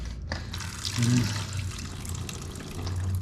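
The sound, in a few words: coolant draining out of a 2020 Yamaha YZ450F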